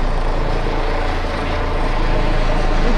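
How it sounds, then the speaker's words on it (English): A constant low rumbling drone of a helicopter somewhere overhead in the mountains near Busteni, Romania, steady and fairly loud, with no voices. "I hear a helicopter, but I don't see it."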